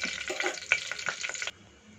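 Food frying in oil in a home kitchen, a soft steady sizzle broken by a few quick stirring clicks, close and fairly quiet, cutting off abruptly partway through.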